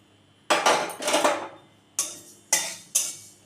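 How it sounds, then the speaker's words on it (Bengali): Mustard seeds poured into a dry pan with the gas turned off: several bursts of rattling, hissing patter, close and fairly loud, each stopping sharply, with no talking. "সরষাটা যে তোমাদের দেখিয়েছিলাম সেটাকে একটু শুকনো খোলায় ঢেলে নেব"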